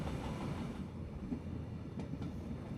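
A GoVolta passenger train on its Amsterdam–Berlin run near Löhne, heading toward Hannover, gives a low, steady rolling rumble with faint rhythmic wheel clicks, fairly quiet and without any voices.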